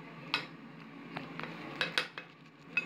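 A knife cuts through the crispy crust of an air-fried deep dish pizza in a pan, giving sparse sharp crunches and clinks against metal, close and fairly quiet with no talk.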